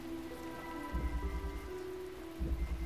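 Moderate, even rain falls continuously in The Talos Principle, a 2014 puzzle game on PS4. Two brief low thumps break the patter, and sustained music tones sit beneath it, with no voices.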